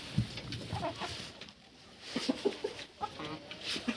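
Hens cluck and murmur close by in short, irregular bursts as they settle to roost, with a few sharper squawks mixed in against a barnyard background.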